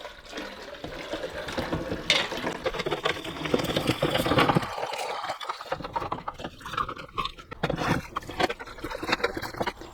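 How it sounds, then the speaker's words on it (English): Warm water running and splashing while a Delonghi Magnifica Start coffee machine's water reservoir is rinsed, a continuous close gurgling flow with sloshing and trickles, rising and falling as the container is moved. "And I'm just cleaning this with warm water again."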